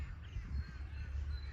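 Crows caw a few times at a distance over paddy fields, with a low, steady outdoor rumble and no voices.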